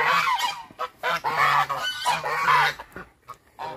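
African geese honk loudly and repeatedly up close, a rapid burst of harsh, overlapping calls that briefly drops off near the end.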